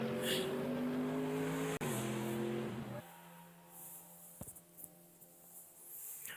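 A race car at the 12 Hours of Mugello screams past at close range, its high engine note dropping in pitch as it passes, then a quieter, more distant engine drone with a few sharp knocks.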